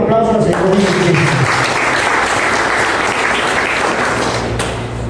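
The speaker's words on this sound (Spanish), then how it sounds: "Denle un aplauso al Señor Jesucristo" A church congregation applauds in a sustained, dense wash of clapping that fills the whole stretch at steady loudness, with a voice heard briefly at the start.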